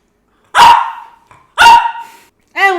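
A needy puppy barks twice loudly and close, each bark trailing off, followed by a higher yelping start at the end.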